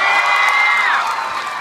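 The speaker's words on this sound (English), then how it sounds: "So every time they say something, I want you guys to cheer, all right?" Schoolchildren cheer and shout together at an elementary school rally, a short, loud burst of young voices whooping as one crowd.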